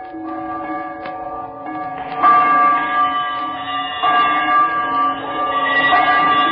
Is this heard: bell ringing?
yes